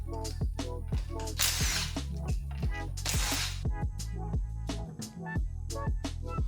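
A ratchet clicks rapidly and steadily while loosening rear brake caliper bolts on a C6 Corvette, with short metallic bursts and a few harsher scraping moments, close and moderately loud.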